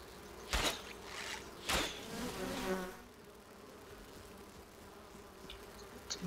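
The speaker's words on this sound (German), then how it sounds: "Schon wieder Bienen?" Bees buzz in the video game Enshrouded, a faint droning hum that swells twice in quick passes near the start, then settles into a soft, distant buzz.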